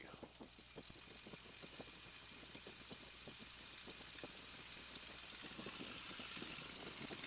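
Navy PT-17 Stearman biplane engine idling at low RPM around 1,300 on the ground at Winter Haven's Gilbert Field, a steady rhythmic knocking thrum that holds evenly throughout without talk.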